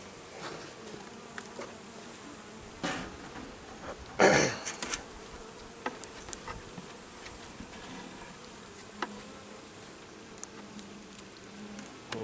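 A soft, steady honeybee buzz at a hive, with a brief louder swell of buzzing partway through and scattered small taps.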